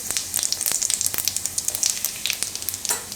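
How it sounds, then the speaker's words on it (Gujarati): Cumin and asafoetida temper in hot oil for a chana bateta shaak, crackling in a bright, close, continuous sizzle of rapid pops with no voices. "તેલ આપણું ગરમ થઈ ગયું છે તો એમાં આપણે નાખશું થોડુંક જીરું વઘાર માટે"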